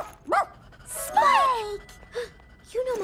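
A small cartoon dog gives a few short, sharp yips and barks, spaced apart and mixed in with people talking.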